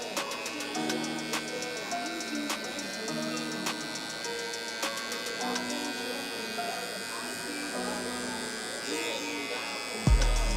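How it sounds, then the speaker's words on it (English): Electric hair clipper with its lever fully open, cutting a burst fade mullet, a steady close buzzing hum with small changes in pitch as it moves through hair, ending in a brief thump. "So now we're gonna come in with the clipper, lever all the way open."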